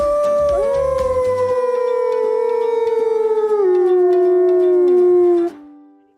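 A voice imitates a wolf howl in one long, loud, sustained wavering note that slides slowly downward, with a faint babble of other sounds at the start before it cuts off near the end.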